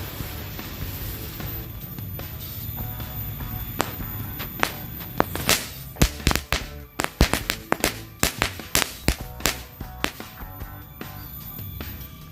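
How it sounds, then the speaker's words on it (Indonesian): A rapid string of sharp mini stick firecracker bangs, loud and close, popping in irregular bursts over a low background rumble, the snaps crowding together in the second half. "Yang pertama kita cobain mercon korek mini stick 3 kali bank."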